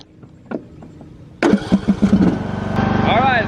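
A John Deere tractor engine cranks and catches with a loud burst of rapid chugging, then settles into a steady idle; a voice talks quietly before the start.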